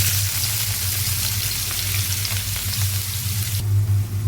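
Steady hissing sizzle of chopped onion frying in hot oil, close and continuous, with a low hum underneath and no talking.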